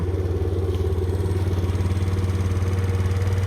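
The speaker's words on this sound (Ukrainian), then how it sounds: "Так, зараз заведемо. Заводиться з півтичка." A Suzuki Lets 4 scooter's small engine runs with a steady, close putter and a regular rhythmic pulse, likely idling just after starting.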